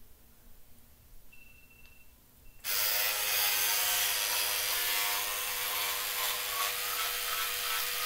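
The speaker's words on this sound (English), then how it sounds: "Brushing my teeth." An electric toothbrush starts abruptly with a steady, close buzz. Brushing teeth during a school-morning routine, it runs continuously after a quiet moment with light handling sounds.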